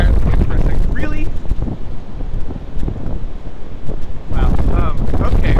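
Strong outdoor wind buffets the microphone in loud, continuous rumbling gusts, with a person briefly talking at the start and again near the end.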